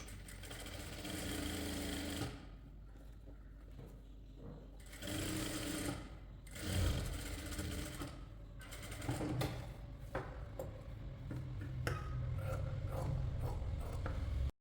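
A sewing machine stitching the back neck of a short kurti, running in loud close bursts of rapid whirring with brief pauses between runs.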